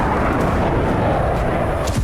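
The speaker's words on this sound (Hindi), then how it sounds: "धमाका लवीव के करीब।" Missile explosion near Lviv in Ukraine heard as a loud, continuous roaring blast rumble filling the whole stretch, dense and close with no voices.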